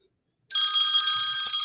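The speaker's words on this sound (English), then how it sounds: "That's just the ringtone on the phone." An old-school landline-style phone ringtone starts abruptly after a moment of silence, then rings loud and steady and close by, its bright electronic trill carrying on without pause.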